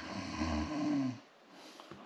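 A person snores while dozing in an abandoned countryside house, one long rasping snore up close that fades into quiet room tone, followed by a faint soft rustle.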